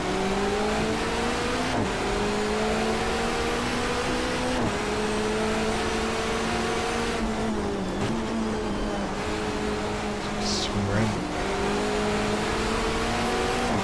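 Touring cars race in GTR2 with a 1994 Asia-Pacific championship field, engine notes droning and rising together in a steady pack, pitch dipping briefly at gear changes and braking points, with no talk.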